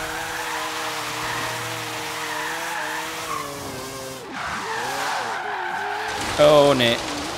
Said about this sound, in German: Ich probiere es trotzdem mal einen Drift durchzuziehen hier.